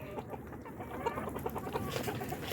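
Backyard hens cluck steadily in a dense, overlapping chorus, including a hen with a lame foot that never healed. The soft, rhythmic clucks sound close and continuous for the whole stretch, with no talking.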